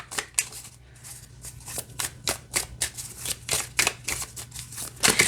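A Wizards Tarot deck is shuffled by hand: quick, crisp bursts of cards riffling and slapping together in an uneven rhythm, close and clear, with no talking.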